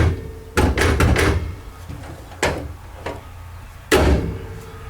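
The door of an MGA sports car is worked open and shut, giving several sharp latch clunks and thumps separated by quieter handling noises, recorded close up with no talking.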